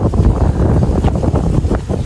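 Steady low rumbling wind on the second floor of a house in Taytay, Occidental Mindoro, Philippines, buffets the microphone, a dense continuous roar with gusty fluctuations, loud and close, no voices.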